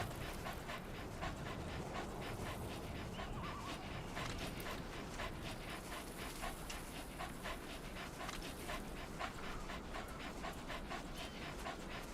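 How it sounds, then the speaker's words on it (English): Dog panting in Metal Gear Solid 5, a steady rapid rhythm of close, breathy huffs running continuously throughout, with no talk over it. "Good dog."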